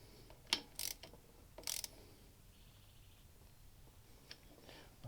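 Ratcheting clicks from a wrench tightening bolts with lock washers into an aluminium A/C compressor mount on a Subaru, two quick bursts near the start then quieter faint clicks, close and soft.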